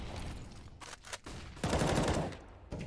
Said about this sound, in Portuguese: Nossa, ainda deu uns disparos com a CM4 ali no NBK.